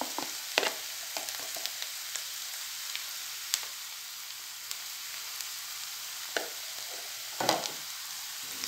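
Onions fry with a spoonful of tomato paste in a pan, a steady low sizzle and crackle with sparse spoon taps and scrapes, close and fairly quiet with no voices.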